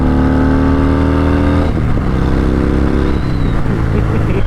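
A 2021 Harley-Davidson Fat Bob accelerates hard on the road with a loud, close engine drone. Its pitch climbs, drops sharply at a gear change partway through, then rises again. Strong wind noise runs underneath.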